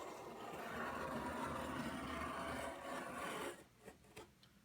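A sharp knife scrapes along the edge of a cork floor tile, stripping off paper and nubs in one continuous rasping pass of about three seconds, then a couple of brief lighter scrapes.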